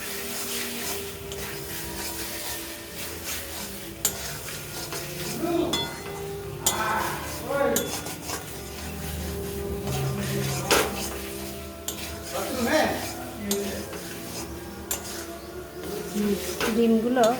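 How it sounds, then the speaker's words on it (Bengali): Fried potatoes and eggs stirred through spice masala in a pan, scraping and clinking of a spoon against the pan in irregular bursts, with someone talking over it. "আলুগুলো দিয়ে সঙ্গে কিছুক্ষণ নাড়াচাড়া করব"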